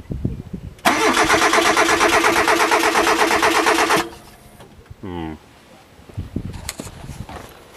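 A Hyundai engine cranks with a loud, rapid starter whir for about three seconds but fails to catch, followed by quieter clunks and faint voices in the background.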